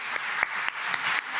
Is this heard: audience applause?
yes